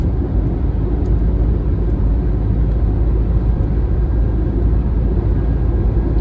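Steady low road rumble and tyre roar from a car cruising along an Indian national highway, constant and close with no talking.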